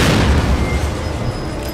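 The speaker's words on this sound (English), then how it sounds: "I'm just gonna shoot this bomb here." A bomb shot in The Evil Within game explodes with a loud, close boom that fades into a rumbling, crackling tail.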